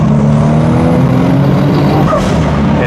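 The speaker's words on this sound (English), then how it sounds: "so we can rev it." A 1000HP 2JZ-swapped 2002 Lexus IS 300 with rolling anti-lag drones loudly and steadily, a continuous heavy engine tone held close and alone throughout.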